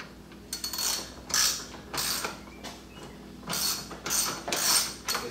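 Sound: ratchet with deep 13mm socket removing bolt

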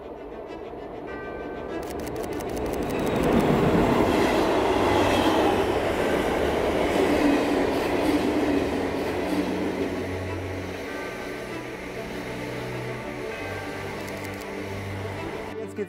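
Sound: train approaching on railway line

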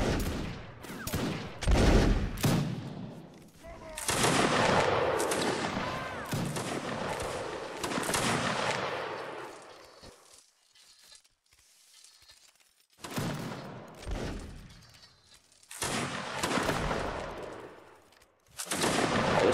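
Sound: musket fire in video game Napoleonic Wars

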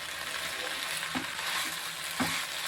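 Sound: onions and green chillies sizzling while sautéing in oil

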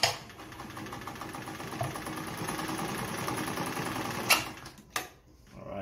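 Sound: Frister & Rossmann sewing machine sewing through denim layers

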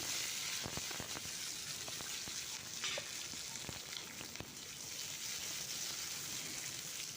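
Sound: tomato frying in mustard oil

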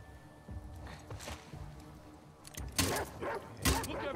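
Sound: dogs barking in the video game The Last of Us Part 2

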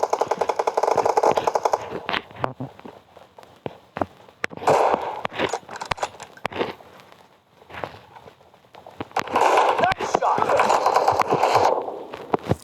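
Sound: M4 rifle gunfire in PUBG Mobile video game

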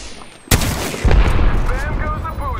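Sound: gunfire in the video game Apex Legends

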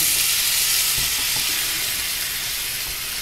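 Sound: onion and garlic sizzling as they brown in a pan

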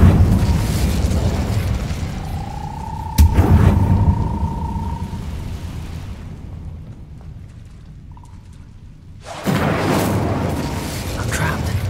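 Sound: Incendio fire spell blast in the video game Hogwarts Legacy

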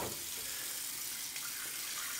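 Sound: water running from sink tap

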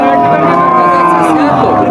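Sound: cow mooing at cattle market

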